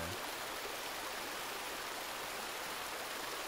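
Steady broadband rush of flowing water from a stream in the Resident Evil 2 Remake, continuous and even throughout with no other sounds.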